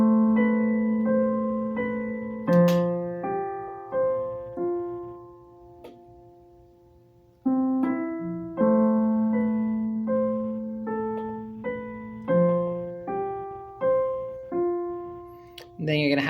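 A simple arrangement of a piece played on piano, clear, close melodic notes struck one after another over sustained chords, with a brief pause in the middle before the phrase repeats.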